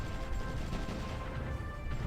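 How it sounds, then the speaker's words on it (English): Distant explosions rumble on the enemy side of the front in the strategy game SRU, a dense, continuous low roar of blasts with no talk. "Mostly active in terms of explosions on the enemy side of the front."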